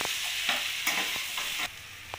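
A spatula stirs chickpea curry with a fried egg in a pan, scraping in short strokes over a steady hiss, a few sharper clatters standing out.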